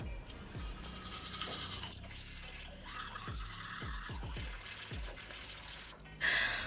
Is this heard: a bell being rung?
no